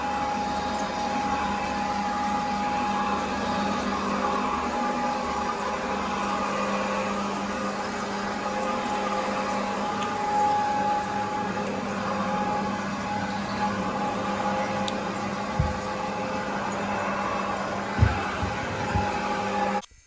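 A CRB carpet cleaning machine running steadily, a constant droning motor hum with a tonal whine, loud and close, with a few thumps near the end.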